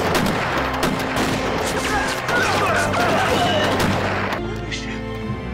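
Gunfire in a Chinese kung fu film fight scene, a dense rapid burst of shots and crashes sounding loud and close, with shouting voices mixed in before the firing tails off.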